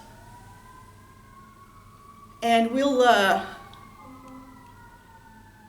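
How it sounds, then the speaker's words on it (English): Distant sirens wail with slowly rising and falling tones throughout, faint but steady, while a person briefly speaks partway through. "there's a bunch of sirens happening right now."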